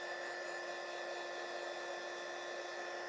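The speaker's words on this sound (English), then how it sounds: "I'm going to grab my little heat gun" A small crafting heat gun blows a steady, loud airflow hiss with a constant motor whine, running alone without a break.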